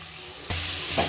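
Ginger garlic paste hits hot oil in a pan while veg fried rice is being cooked, a sudden loud sizzle that bursts in halfway through and keeps crackling steadily, with a brief stir near the end.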